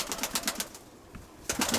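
Pigeons kept by a breeder coo up close in short repeated bursts, with a quieter gap in the middle before another cluster of calls.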